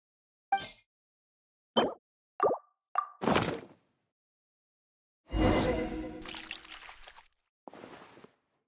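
Water being poured in Genshin Impact: a few separate plops and splashes, then a longer pour that trickles off and ends with one last splash, clear against silence.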